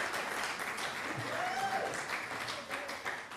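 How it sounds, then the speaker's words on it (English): An audience keeps up a long, continuous round of applause, fairly soft and distant, with a faint rising whistle cutting through the clapping partway along. "It's hard to clap that long."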